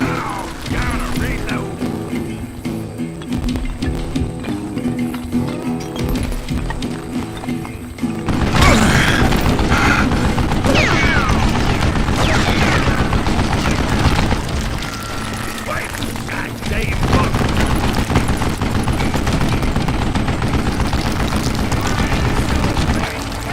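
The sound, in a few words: old man firing a mounted gun in Call of Juarez video game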